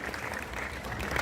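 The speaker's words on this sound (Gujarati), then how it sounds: "જોરદાર તાળીઓ થઈ જાય સર સયાજીરાવ ગાયકવાડ તૃતીય માટે" A short burst of audience applause at a homoeopathic summit in Vadodara, steady, moderately loud clapping from a crowd lasting about a second.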